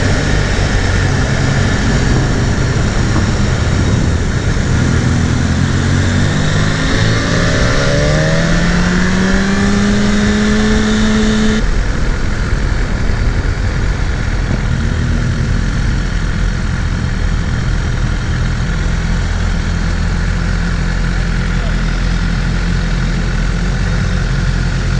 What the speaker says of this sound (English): BMW S1000 RR.